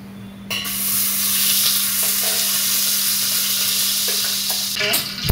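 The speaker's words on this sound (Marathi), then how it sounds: "त्याला पण तुपाचीच फोडणी." Ghee tempering in a pan sizzles loudly and steadily, a bright crackling hiss that swells in right after a quiet start and holds, with a few clinks near the end.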